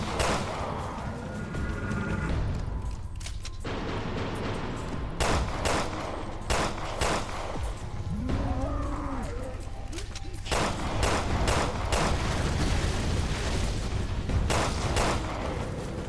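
Machine pistol fire in Resident Evil Revelations 2, loud repeated bursts of rapid gunshots with pauses between, mixed with game effects and voices talking over the action.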